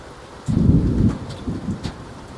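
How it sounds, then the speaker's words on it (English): A low rumble of thunder rolls in and swells, then fades in uneven surges over a light background hiss of rain at a lake. "It's actually a pretty significant little thunderstorm here at the lake."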